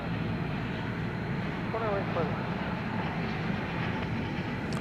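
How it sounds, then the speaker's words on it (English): A United Airbus A319 airliner built in 1998, bound for Denver at DFW Airport, makes a steady, broad roar that holds at an even level throughout, with a brief murmured voice partway through. "Got another United plane here. This is flight 2357. This is going to Denver on an Airbus"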